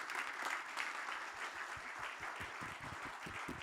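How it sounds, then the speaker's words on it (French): Applause from the audience at a Belgian political party's New Year address, quiet and distant, with a steady patter of clapping and some sharper individual claps standing out. "Et on peut applaudir."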